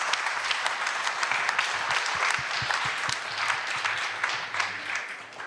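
An audience at a Malaysian Humanitarian Foundation event claps in sustained applause, a dense crackle of many hands that stays steady and tapers slightly toward the end.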